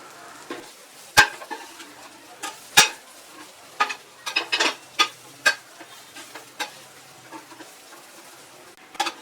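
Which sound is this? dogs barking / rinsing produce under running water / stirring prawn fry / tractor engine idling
stirring prawn fry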